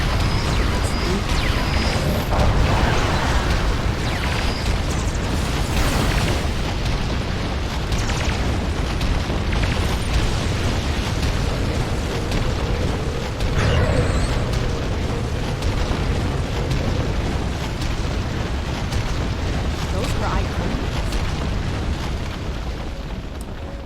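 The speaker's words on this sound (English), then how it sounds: "They're using anti-proton weapons." Anti-proton weapons fire in the Star Trek Online space game, a continuous barrage of booming, crackling blasts that stays dense and loud throughout with no quiet gaps.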